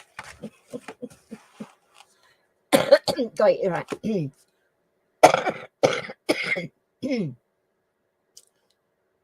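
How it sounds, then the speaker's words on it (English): A person coughs repeatedly in bursts, several harsh coughs grouped together with short pauses between, close to the listener, with a brief spoken phrase among them. "See, I've still got a little bit of a cough."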